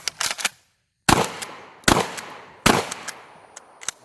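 Shotgun blasts fired at bowling pins: four loud, close booming reports in quick succession, each with a short echoing tail, along with a few fainter metallic clicks and clanks from working the action.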